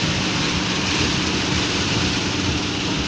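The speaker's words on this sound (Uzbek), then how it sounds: "Do'l aralash yo'qyapti" Rain mixed with hail beats down hard in a dense, unbroken roar with no gaps, loud and constant until it cuts off abruptly.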